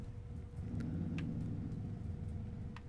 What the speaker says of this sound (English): Sorry if you hear that motorcycle outside.